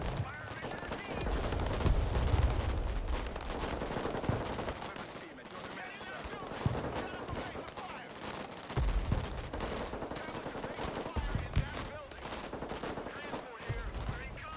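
An artillery fire mission in the Broken Arrow war video game plays out amid a loud, dense barrage of rapid gunfire and booming blasts that continues without pause.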